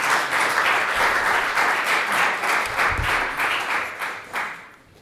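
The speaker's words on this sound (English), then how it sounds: "and Malia Dumont, please round of applause." Applause from an audience at a speaker series event, a dense burst of clapping that holds strong for several seconds, then thins and fades out.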